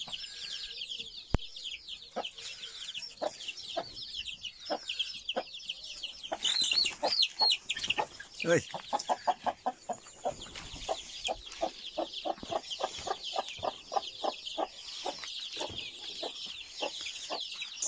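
Several farmyard chickens, including a hen with her chicks, cluck repeatedly and steadily up close, with high peeping chirps filling the background throughout and a brief exclamation from a person at one point.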